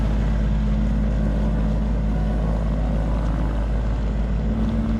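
Motorboat driven fast on Lough Derg in County Donegal, a steady loud engine drone with deep low rumble running the whole time, no voices over it.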